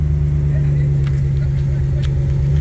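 Deep, steady exhaust rumble from a pickup truck idling close by, a smooth low drone holding even throughout with a faint voice in the background.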